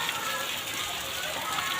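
Steady broadband hiss of rain falling, continuous and fairly even, with no distinct drops standing out.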